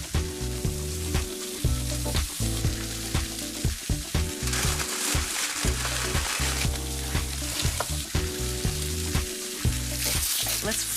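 Meats and vegetables, including marinade-brushed corn, sizzle steadily on a grill, a dense continuous crackle with faint background music and no talking.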